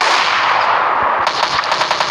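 Rapid video game gunfire in a bomb-throwing shooter match, a dense continuous burst that gives way to a string of distinct, evenly spaced loud shots, close and with no talk.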